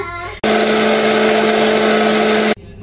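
A small electric mixer grinder pulverises dry-roasted cinnamon, cloves, cardamom, dried red chillies, coriander seeds and cumin into powder, a loud steady whirring roar of about two seconds that starts and stops abruptly.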